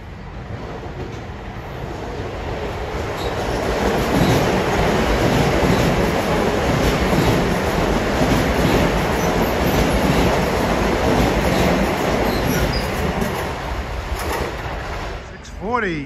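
An LIRR commuter train, New York to Ronkonkoma, roars into Elmont station at evening rush hour, a loud sustained rumble of rolling wheels and cars that builds, holds, then eases, with faint squeals near the end.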